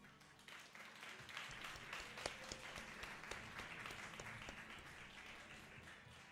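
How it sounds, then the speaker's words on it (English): A crowd at a StarCraft esports tournament gives polite golf-style applause, with a quiet, steady patter of many hands heard from a distance and a few sharper individual claps, sustained at low volume throughout. "The golf claps."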